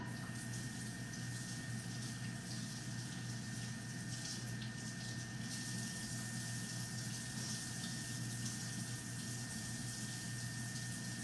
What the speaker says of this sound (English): let me go wash my hands because they are a mess